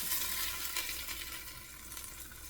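Chicken pieces browning in a hot pan in a one-pot chicken and veggies dish, a steady close, loud sizzle and crackle of frying fat that continues throughout with no talking.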